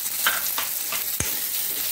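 Four green chillies frying in hot oil in a pan, giving a steady bright sizzle with soft crackles and one sharp pop, close and continuous with no talking.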